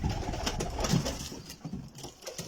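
Pigeons kept by a breeder coo in a low, soft murmur close by, layered with faint rustling and background noise, and no one speaks.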